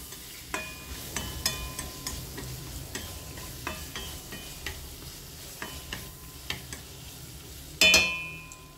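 A spoon stirs meat and tofu coated in turmeric powder in a pan, part of a Vietnamese apple snail and green banana stew, with steady scraping and soft sizzling and a brighter clink near the end.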